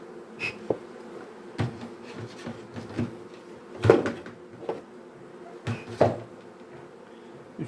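Honeybees buzz around an open hive during a frame inspection, a low steady hum broken by sharp knocks and scrapes of wooden frames being handled nearby.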